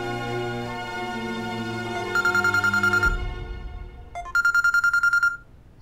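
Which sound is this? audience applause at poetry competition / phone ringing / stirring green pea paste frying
phone ringing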